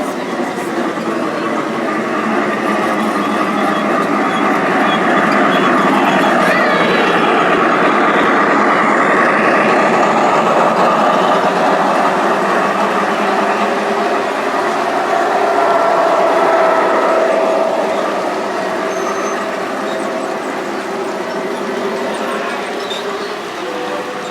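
A model steam locomotive on a Christmas train layout rumbles steadily past at close range, a broad continuous roar of engine and wheels with faint voices in the background.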